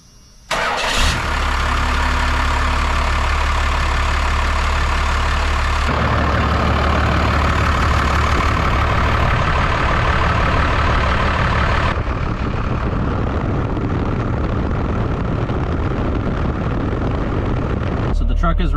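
A First Gen Cummins truck engine cranks and fires with a sudden loud catch, then settles into a steady, rough, close-up diesel idle that continues to the end.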